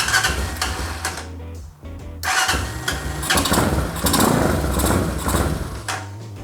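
A Honda Hawk 250 motorcycle engine cranks and catches, running loud and rough with uneven revs, a brief dip to near silence, then settles into a steady, throbbing idle up close.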